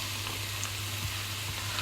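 Chopped garlic and onion fry in a pan, giving a steady, close sizzle with a faint hum beneath it and no voices.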